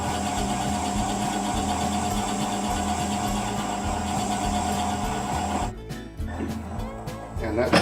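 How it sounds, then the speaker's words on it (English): Wood lathe turning at 250 RPM while a 15/16 inch Forstner bit bores a recess into a glued-up bowl blank, a steady loud motor hum with grinding cutting noise that drops away near the end. "putting a recess in here with a 15/16 inch bit, Forstner bit, and I'm turning it at 250 RPM"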